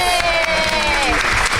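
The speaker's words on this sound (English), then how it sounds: "Can we all give her a big round of applause?" An audience at a book panel on romance and fantasy writing gives a new author a round of applause, with steady close clapping throughout and a voice speaking over it.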